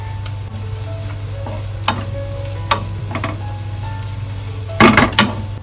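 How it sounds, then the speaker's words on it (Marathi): Sliced onion sautéing with turmeric in a pan for a chaal-style pithla, a steady close sizzle with occasional scrapes and clinks from stirring and a louder clatter near the end, no talking. "आपला कांदा ना थोडासा असं परतून घेतलेला आहे."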